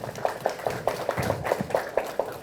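Applause of encouragement rings out at a Korean political committee event, a moderate run of steady, evenly spaced claps.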